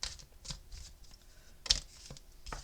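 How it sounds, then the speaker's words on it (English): A deck of oracle cards being shuffled by hand, quick papery riffles and flicks in short bursts at close range, with one sharper snap partway through. "I have to move my hands way up here if you're going to see me shuffle."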